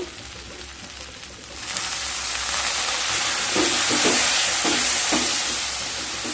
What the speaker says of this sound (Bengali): এবার লো স্টিমে মশলাগুলোকে খুব ভালোভাবে কষিয়ে নেব সাথে অল্প জল দিয়ে দেবো